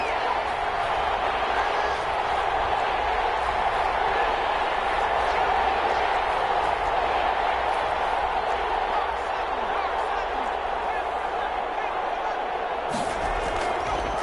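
A stadium crowd at a Carolina Panthers football game roars in a steady, dense wash ahead of a big third down, sustained and loud throughout with a brief dip near the end.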